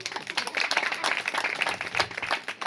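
An audience claps together at a Christian gospel meeting in Mupparajupalem. The clapping is dense, steady and fairly close, filling the moment without a voice over it.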